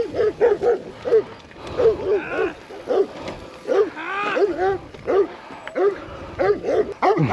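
Dogs bark and yip repeatedly at a cyclist on a rural road in Albania, a rapid, loud, close volley of barks with whimpering yelps in between.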